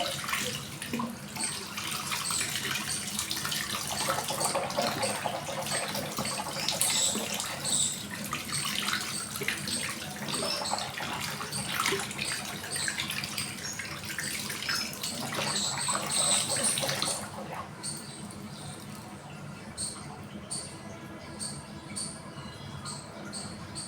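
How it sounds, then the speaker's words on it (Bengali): A tap runs while someone washes their face with face wash, a steady rush of water splashing into a basin that shifts to a thinner, lighter trickle near the end, with no talking. "ধুয়ে নিয়েছি ফেস ওয়াশ দিয়ে"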